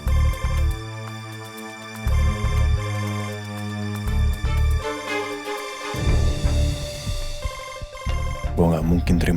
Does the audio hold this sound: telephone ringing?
yes